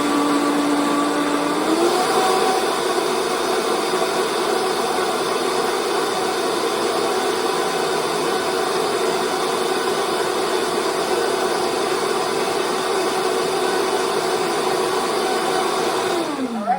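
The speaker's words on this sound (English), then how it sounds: "So let's blend that right" A blender whirs loudly and steadily for about sixteen seconds as it purées raw vegan BBQ ranch salad dressing ingredients, the motor pitch shifting slightly at start-up and winding down at the end.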